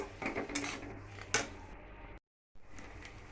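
Chilli paneer stirred in a pan, with close scraping and a few sharp metallic clanks of the utensil against the pan, a brief dropout of silence, then quieter stirring.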